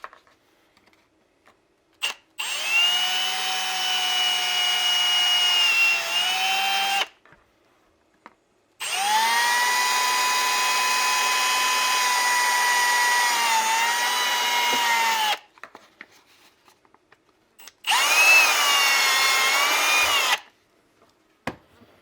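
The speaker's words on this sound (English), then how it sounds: "This hole, and this hole need to be drilled out." A power drill bores out holes during a KTM motorcycle install, running in three steady, loud whining stretches of several seconds each with short silent gaps between, the pitch dipping slightly as the bit bites.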